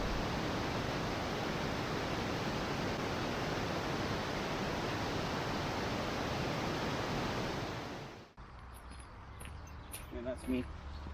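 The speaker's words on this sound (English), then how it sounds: "the tumbling cascades of the waters of Feugh" Water of Feugh tumbling over rocky falls beside an old stone bridge, a loud, steady broadband roar of cascading water that cuts off abruptly near the end, leaving quieter ambience with faint voices.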